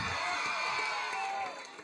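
An audience of students cheering and clapping at a mimicry show, a loud crowd roar with whoops and shouts blended into a dense wash that fades slightly at the end.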